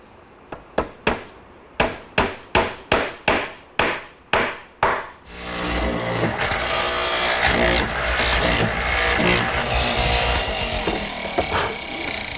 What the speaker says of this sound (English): What I'm doing here is putting a chamfer along the top edges of that cross piece.